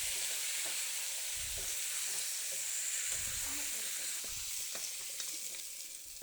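A steady, soft sizzle of vegetables frying in oil for a ridge gourd, drumstick and raw mango sambar, with occasional low stirring scrapes underneath and no talking.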